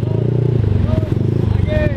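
A Honda Vario scooter with a new custom roadrace-style exhaust rides along, its steady, throaty engine hum close by and loud beneath a talking voice.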